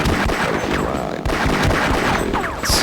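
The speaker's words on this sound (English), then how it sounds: "the turret down yonder starts shooting again" A turret fires repeatedly in Half-Life: Decay on PS2, a rapid loud string of gunshots with ricochet-like whines, continuous and close.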